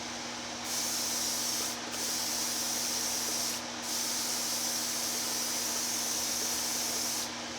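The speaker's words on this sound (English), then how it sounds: "And I'll be spraying the clear in the same conditions." Airbrush spraying clear coat in long steady hissing bursts, briefly pausing between passes, close and fairly quiet.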